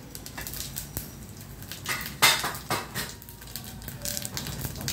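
Cumin seeds tipped into a hot pan of oil to temper a tomato and fenugreek-leaf curry give a brief sharp crackling sizzle, with light clinks of a metal pan over steady kitchen background noise.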